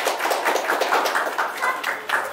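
A crowd at a pre-primary school ceremony in Falakata claps loudly in a dense, continuous patter of many hands, close and lively, with faint voices mixed in.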